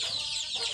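A chicken on a game farm in Canlaon, Negros Oriental, gives a single brief cluck, close and clear, lasting under a second.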